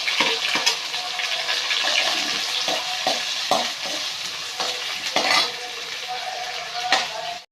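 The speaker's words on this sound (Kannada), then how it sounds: "ಸಾಸಿವೆ ಜೀರಿಗೆ ಹಾಕ್ತಾಯಿದ್ದೀನಿ." Mustard seeds and cumin sizzling in hot oil in a home kitchen, a steady loud crackle with occasional sharp pops and stirring clinks throughout.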